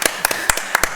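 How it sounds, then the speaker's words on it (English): A few people clapping at a planning board meeting, sparse, separate claps in an irregular rhythm, brief and close. "I'd like to give her a round of applause"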